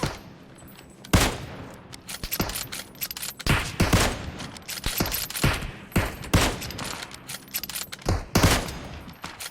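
Rapid gunfire in PUBG Mobile, with many sharp, loud shots in irregular bursts and clusters spread across the whole stretch, some close and punchy, others slightly fainter, with brief gaps between volleys.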